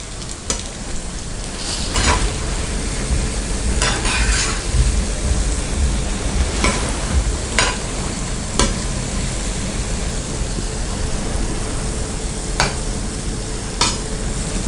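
Banana sweet bondas deep fry in oil, producing a loud, steady bubbling hiss like heavy rain, broken by occasional sharp clicks of a utensil, with no talking.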